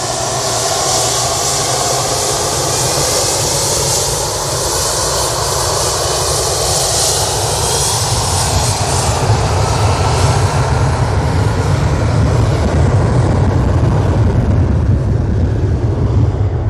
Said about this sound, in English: get that 747 arrival